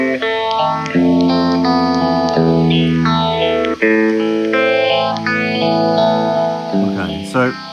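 An electric guitar played through a Foxx phaser pedal rings out in sustained, distorted chords and notes, with a slow, sweeping phase swirl. It sounds loud and close, with no talking.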